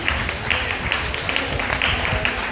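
Applause from a church conference audience in Djougou, Benin, a steady dense wash of many hands clapping at moderate volume, with a faint voice mixed in.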